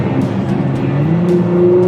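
A 660-horsepower twin-turbo 3.5-liter V6 car engine drones loud and close in a steady, throaty run, its pitch climbing slightly as the revs rise.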